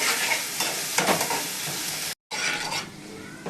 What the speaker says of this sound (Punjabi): ਪਿਆਜ਼ਾਂ ਨੂੰ ਹੁਣ ਆਪਾਂ ਇੱਥੇ ਚੰਗੀ ਤਰ੍ਹਾਂ ਦੇ ਨਾਲ ਭੁੰਨ ਲਵਾਂਗੇ